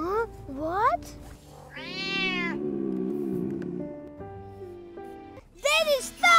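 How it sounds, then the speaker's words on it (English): A cartoon kitten meows several times in quick, rising cries, then holds one long, wavering yowl before a few more bright meows at the end, loud and close. "There's a little cat outside!"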